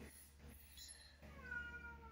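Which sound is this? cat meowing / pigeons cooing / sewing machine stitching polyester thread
cat meowing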